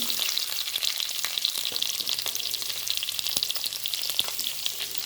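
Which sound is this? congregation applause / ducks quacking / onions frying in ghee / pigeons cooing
onions frying in ghee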